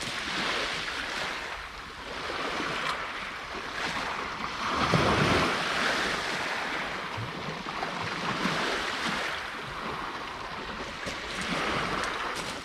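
Rough river water churns and surges some forty yards out, a broad steady wash with gusts of wind buffeting the microphone and a slightly stronger swell midway, no voices.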